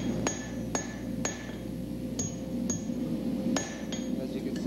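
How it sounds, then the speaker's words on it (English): Hammer striking a hardened metal curl held over an anvil horn, about seven sharp ringing clinks at uneven intervals, each leaving a short metallic ring over a low background hum. "I can put it over the horn and hit it with the hammer"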